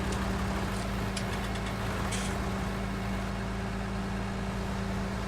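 Tractor engine in the video game Farming Simulator 19, a steady droning motor hum with constant tonal whine, moderately quiet and unbroken, with a few faint clicks near the start and no speech.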